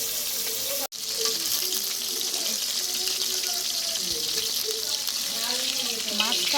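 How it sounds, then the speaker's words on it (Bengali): Fish frying in hot mustard oil gives a steady, close sizzling hiss with faint spattering crackles throughout, briefly cut off by one short gap near the start. "আমি সরষের তেল দিলে আমি জানি মাছটা ফাটে না, তার সত্ত্বেও ফাটছে"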